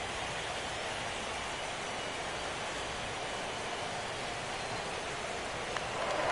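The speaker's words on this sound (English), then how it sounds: "it's really raining hard here tonight" Heavy rain in the MLB The Show baseball video game during a night game, a steady loud hiss of downpour running evenly throughout with no other distinct sounds.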